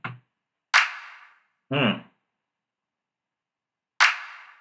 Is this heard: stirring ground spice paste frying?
no